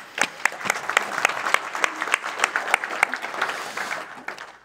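Audience applauding two guests invited onto the stage at a panel event on future-proof agriculture, a warm burst of clapping with distinct individual claps, fairly close, building then tapering off after a few seconds.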